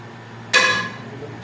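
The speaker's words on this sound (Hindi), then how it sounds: "इसके अंदर अभी हम पानी डाल के जा रहे हैं, पानी गर्म था" Hot water is poured into a pot of browned siri paye (goat head and trotters), starting with a sudden loud splash and hiss that fades into a softer bubbling wash, with no talk.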